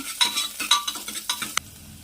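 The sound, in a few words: onions frying in oil with curry leaves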